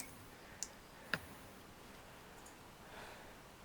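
Two sharp isolated computer keyboard or mouse clicks, the second a bit louder, over a quiet room hiss with no talking.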